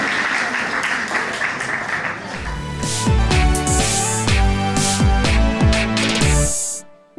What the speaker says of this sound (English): A big round of applause for being the sport that you are.